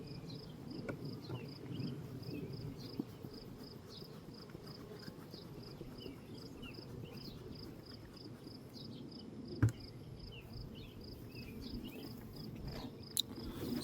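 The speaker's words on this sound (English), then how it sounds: "there's a lot more bees here" A steady, low insect buzz of many bees at a beehive hums continuously throughout, with a few faint clicks and knocks nearby.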